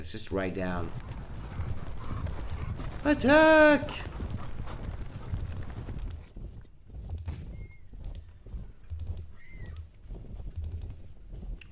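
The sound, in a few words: cavalry horses galloping in Napoleonic Battles video game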